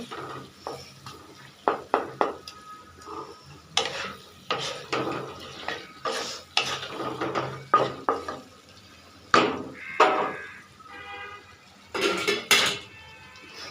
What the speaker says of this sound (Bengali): এখন এটা ভালোভাবে কষাই নিতে হবে